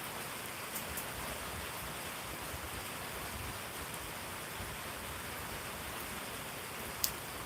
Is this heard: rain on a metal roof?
yes